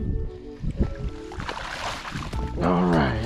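A hooked carp thrashes and splashes at the water's edge as it is landed at a fishing lake, with churning water close by and a brief burst of rippling splashes at the end, and a person talking over it.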